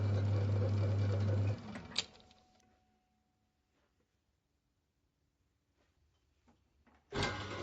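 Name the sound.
lathe forming a diamond knurl on a pen body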